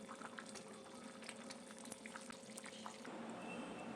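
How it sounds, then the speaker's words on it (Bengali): Potato curry (aloo dum) gravy simmers in a pot, giving a faint, continuous bubbling and popping close by, with no voices. "ঝোলটা ফুটছে"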